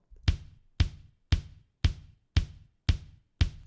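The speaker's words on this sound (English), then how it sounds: "but it sounds like this in its raw." Seven steady kick drum hits from a raw, unprocessed live jazz kit sample, played solo and close, each a punchy thump with a full low end and short ring.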